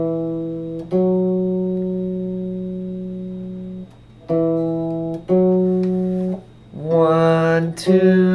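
Clean electronic tones sounding an interval for ear training: a sustained held note, then two shorter notes in succession, then a brighter, noisier pair of notes at the end, loud and alone.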